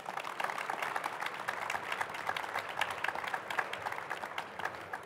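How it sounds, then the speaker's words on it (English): A seminar audience at a Norwegian-German hydrogen and fuel cells event applauds steadily, a dense, even wash of many hands clapping at moderate distance for the whole stretch, with no talk over it. "a big applause"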